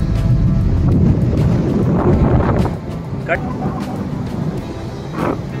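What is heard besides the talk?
wind blowing at Arawali beach, Goa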